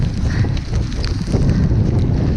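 Strong wind buffets the microphone on a wet, windy day up Pen Y Fan, a loud continuous low rumble with gusty surges and no voices.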